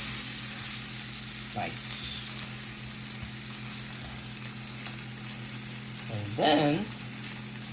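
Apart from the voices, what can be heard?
salmon fillet searing and sizzling in a pan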